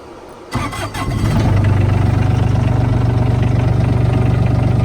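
A Bobcat 463 skid steer's small diesel engine cranks briefly, catches and settles into a loud, steady, throbbing idle close by, with no talking.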